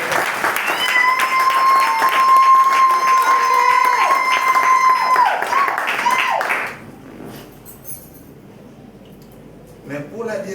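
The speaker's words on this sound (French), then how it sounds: "Je crois que le moment est propice pour qu'on puisse les applaudir quand même." An audience at a ceremony applauds in a dense burst of clapping for several seconds with a sustained tone underneath, then it cuts off to quiet room sound with a brief rustle at the end.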